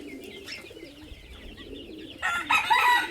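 Two Mynagiri-breed pigeons from the same parents coo and call at close range, with a sudden louder burst of fluttering, wing-flapping activity near the end.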